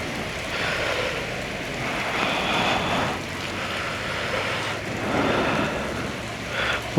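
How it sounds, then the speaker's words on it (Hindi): Heavy rain falls in a steady dense hiss, loud and continuous throughout, heard from an electric scooter on a road trip between Jhelum and Islamabad. "काफ़ी तेज़ बारिश शुरू हो चुकी है।"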